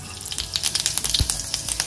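Mustard seeds sizzle and crackle in hot oil in a kadhai, with rapid, irregular pops over a steady frying hiss and one heavier clunk partway through; no voices.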